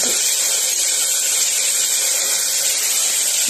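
Washed mutton, with no salt or turmeric, drops straight into hot tempering (phodni) and gives off a loud, steady, close sizzle. The hiss continues unbroken, with no other sounds.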